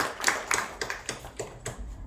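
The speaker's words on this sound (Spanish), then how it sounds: "Muchas gracias, un aplauso" Sparse applause from a small audience at a gastronomic-cultural reading circle in Puebla: a handful of separate, unsynchronized claps spread over about two seconds, moderately close and fading out, with no one talking.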